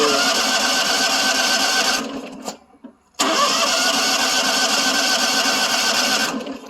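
A John Deere 652R mower engine with a hitting drive pulley cranks with a harsh, rattling whir, cuts out for about a second, then catches again and runs steadily before fading near the end.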